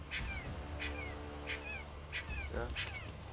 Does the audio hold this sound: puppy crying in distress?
yes